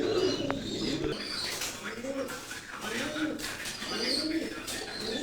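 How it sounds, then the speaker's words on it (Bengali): Repeated soft cooing of a small Madda-type Khulna pigeon, a low rolling call recurring about every second, close by, with faint bird chirps and light background noise. "এটা একটা ছোটো মাদ্দা গ্রুপের কবুতর"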